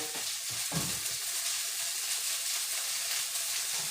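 Cauliflower and peas sizzle in a pan cranked to high heat, a dense, steady frying hiss with a few stirring knocks early on, close and unbroken.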